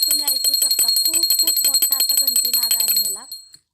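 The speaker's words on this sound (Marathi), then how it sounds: "तुम्ही आवाजावरच कळत असेल की ही घंटी किती चांगल्या क्वालिटीची असेल" A heavy antique puja hand bell rung continuously, giving bright, sustained metallic ringing close by for about three seconds before it fades, with a voice speaking over it.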